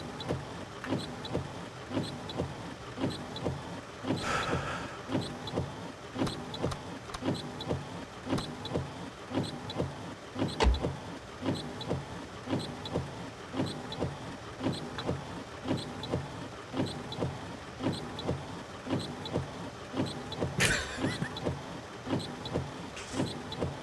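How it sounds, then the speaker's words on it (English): Car windshield wipers running in the game My Summer Car, sweeping back and forth in a steady, regular rhythm of soft squeaky strokes for a long stretch, close and moderately loud. "I don't know how to turn the wipers off now"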